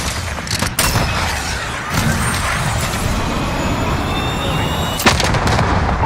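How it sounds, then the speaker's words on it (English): A cruise missile launch and strike in Call of Duty Modern Warfare, a loud rushing roar with sharp blasts and a heavy boom, sustained noise and a closing thump near the end. "Cruise missile away."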